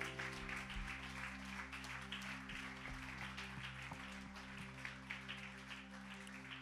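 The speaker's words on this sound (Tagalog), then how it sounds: "Pwede bang palakpakan natin ang ating Panginoon?" Congregation clapping during a worship service, a dense continuous patter of hands under a sustained organ or keyboard drone, fairly soft and steady throughout.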